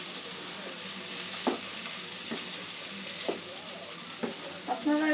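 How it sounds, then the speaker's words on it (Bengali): Whole green moong being stirred with curry ingredients in a hot pan, a steady sizzle and hiss broken by several soft scraping strokes of a spoon, with quiet talk over it. "এখানে গোটা মুগটা দিয়ে দেবো। সবকিছু একটু ভালো করে সমস্ত উপকরণগুলো মিশিয়ে নেব।"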